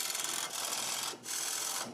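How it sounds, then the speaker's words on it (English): A 3/8-inch hole is drilled for potentiometers in a tube bass preamp prototype, producing faint grinding bursts separated by short pauses. "I need to drill a 3/8 inch hole."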